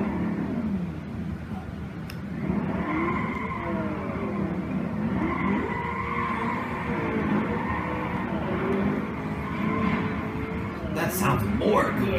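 Corvette engine from the 2005 racing game Need for Speed Most Wanted, a steady droning rev with rising and falling pitch sweeps as the car accelerates and shifts, loud and continuous, with voices talking over it.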